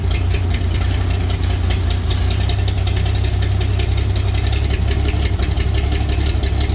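International Farmall diesel tractor engine idling close by, a steady loud low rumble with a rough knocking rhythm throughout, no talk.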